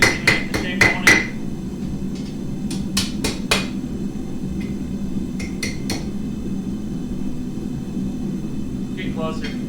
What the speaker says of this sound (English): I'm using the horn of the anvil. Or you should probably actually know what that means. So I'm kind of smacking around a little bit to make the shape I want it.